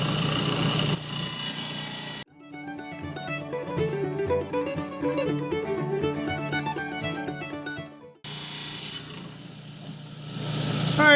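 A saw trims a piece of lapis lazuli with a steady, whining grind for several seconds, loud and close, with quieter machine noise before and after.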